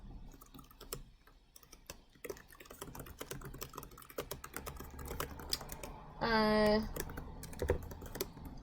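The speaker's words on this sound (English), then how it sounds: "Hang on, I'm gonna type to you." Computer keyboard typing, a busy stream of soft key clicks throughout, with a brief tonal chime partway through.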